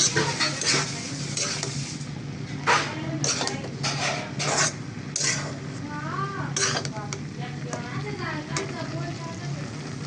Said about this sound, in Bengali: তো ভাজিটা কিন্তু আমি তেল একেবারে দিয়ে দিছি।